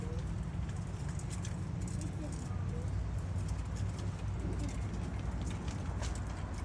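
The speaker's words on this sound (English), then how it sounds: "What we have in here is doves and pigeons" Doves and pigeons, some of them large, coo faintly inside an enclosure over a steady background hum, with a soft indistinct voice mixed in.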